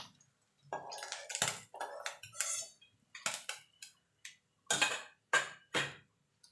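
Fried mourola fish are lifted from a pan, giving a scattered run of short, close metallic clinks and scrapes of utensil on cookware, with quiet gaps between them and no talking.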